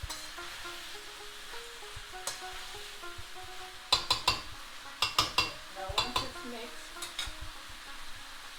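Salt being stirred into aloo gobi in a metal pot, a soft simmering sizzle under clusters of sharp spoon scrapes and clinks against the sides, close and irregular, with no voices.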